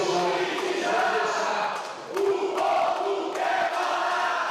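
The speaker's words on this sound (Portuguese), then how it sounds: "Hoje, em São Paulo, Cunha foi vaiado por cerca de 50 manifestantes" Around fifty protesters in São Paulo jeer and boo politician Eduardo Cunha, a loud, sustained crowd of raised voices swelling and dipping with shouted bursts throughout.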